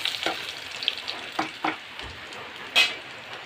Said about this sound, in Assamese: পিঁয়াজ দিলোঁ